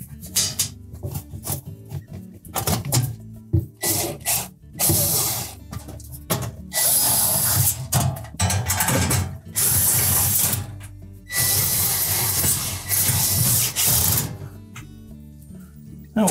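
Nut being tightened on the convection fan motor of a GE range while the fan blade is held still: close, irregular ratcheting and metallic clicking in short bursts with brief pauses, no talking.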